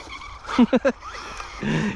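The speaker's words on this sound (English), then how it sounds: "you can hear that squeal when you hit the drive" A Maxx Slash RC car's tyres squeal in three short, sharp bursts on a dusty driveway, close by, followed by a softer rasping skid and motor whine.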